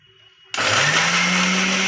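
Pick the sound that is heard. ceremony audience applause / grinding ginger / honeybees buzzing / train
grinding ginger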